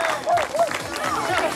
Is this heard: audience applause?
yes